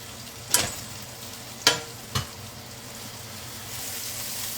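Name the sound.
salmon and green peppers frying in a pan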